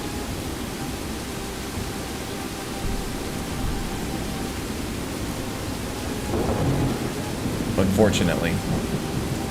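Rain and thunder in the video game Skyrim: a steady, loud hiss of downpour with low rolling rumbles throughout, swelling slightly toward the end, where a voice briefly speaks over it.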